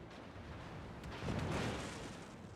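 Battleship big guns fire in a naval warfare video game as Yamato, Missouri and other ships exchange shots: a low, rumbling broadside boom swells midway and decays over a steady background roar, with no talking.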